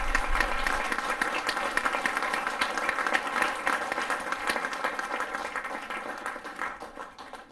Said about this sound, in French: Et encore merci pour que vous nous applaudissez.